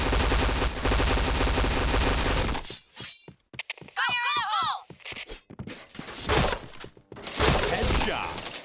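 Rapid bursts of gunfire from a mobile shooter video game during a rainy multiplayer match, loud and dense at first, then scattered single shots and clicks, with players talking over the action.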